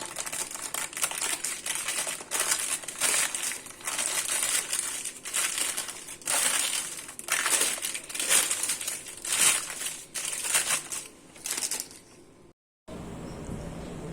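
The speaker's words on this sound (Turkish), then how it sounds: "Daha sonra kekimizi yağlı kağıttan ayıralım." Close, crinkly rustling of baking paper being peeled off a cake, a steady run of papery crackles and tears, ending with a brief pause and a softer tail.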